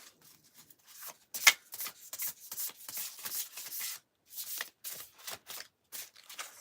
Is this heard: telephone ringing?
no